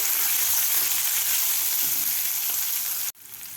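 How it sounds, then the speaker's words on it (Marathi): Sweet corn kernels sautéing in a hot pan while making a traditional vatli dal, giving a steady close sizzle and hiss that cuts off abruptly near the end, leaving quieter background. "स्वीट कॉर्नसुद्धा आपल्याला एक मिनिटभर परतून घ्यायचे आहेत"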